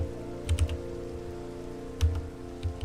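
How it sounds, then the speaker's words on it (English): Rain pattering in the Minecraft video game, a steady soft wash with a few brighter tick-like bursts standing out over a sustained low hum. "They're getting rained on."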